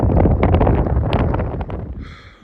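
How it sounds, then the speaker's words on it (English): Strong wind buffets the microphone on the summit of Mt. Abram in Maine, a loud, steady broadband roar with gusty swells that eases slightly near the end. "Hiding from the wind a little."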